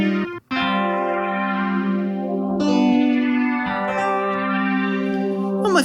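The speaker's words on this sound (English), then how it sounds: "There is a phaser." A phaser effect on the Synapse Audio Dune 3 software synthesizer colours sustained synth tones with slow, sweeping swirls that rise and fall. A short gap breaks the sound near the start, and the chords change partway through.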